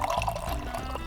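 Liquid poured about halfway into a cup while making drunken peanut butter cups, a steady close splashing pour running for about a second.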